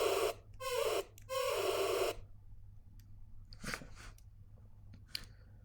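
Synthesized metallic screech modeled on SOPHIE's Ponyboy: three loud, bright, bending bursts in quick succession, followed by quieter scattered crackles and clicks.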